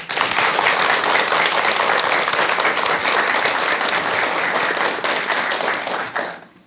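A lecture audience breaks into loud, sustained applause, dense clapping from many hands holding steady for several seconds before fading out at the end.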